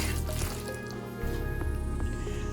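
Turkey noodle tetrazzini is stirred in a pot, giving a steady, thick, wet squishing and sloshing over a continuous background hum.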